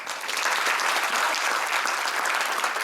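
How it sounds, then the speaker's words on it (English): A conference audience bursts into sustained applause, a dense, steady wash of many hands clapping at once that holds evenly throughout. "Give her a round of applause."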